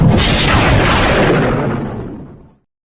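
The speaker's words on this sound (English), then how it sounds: "Oh, I heard thunder." A rolling rumble of thunder, loud and broadband, sustains for about two seconds and then fades away to silence, with no voices.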